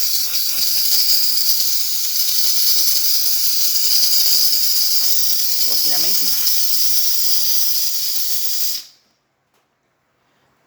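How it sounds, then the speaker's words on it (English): A loud, steady steam hiss blows from a De'Longhi espresso machine fitted with a new water pump for several seconds, a brief voice speaks partway through, then the hiss cuts off abruptly into silence. "it will start pushing out steam"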